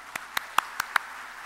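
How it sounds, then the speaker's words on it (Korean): Five sharp, evenly spaced hand claps ring out in a church at a Sunday evening service as the preacher is welcomed, crisp and fairly close over a quiet room. "큰 박수로 환영하시겠습니다."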